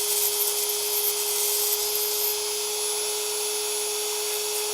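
A more powerful Dremel 4000 rotary tool with a sanding bit smooths the small edges of a plastic toy figure's wrist, giving a loud, steady high-pitched whine with a constant tone throughout.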